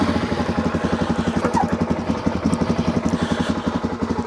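A motorcycle engine idles steadily up close, a low rhythmic chugging pulse with mechanical clatter that holds even throughout, no voices over it.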